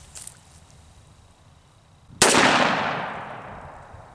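A Taurus Judge 45/410 revolver fires a single buckshot round outdoors, one sharp loud crack after a quiet stretch, followed by a long decaying echo.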